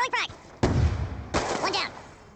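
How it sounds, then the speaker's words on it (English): A frag grenade blast in a Black Ops II team deathmatch, with two heavy, booming bursts close together, mixed with voices and game noise. "Throwing frag."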